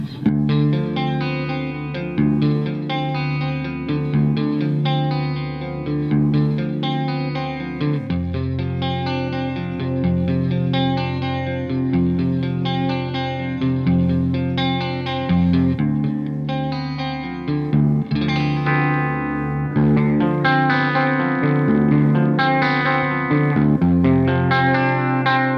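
Electric guitar played through a Mesa Boogie Nomad 55 head with per-channel reverb, a sustained, distorted, heavily effected performance running continuously and loud, with no talking.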